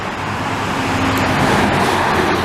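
A Ford Econoline E350 van engine rumbles past at close range over steady road noise on a Montreal street, swelling slightly midway before settling.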